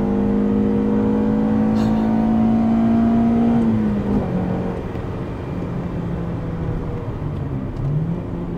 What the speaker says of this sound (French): vous voyez déjà moteur hurlant dans la CRX